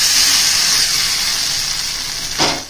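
Tempering spices crackle and sizzle in a hot pan, a loud bright hiss that slowly fades, with a short burst of fresh splattering near the end.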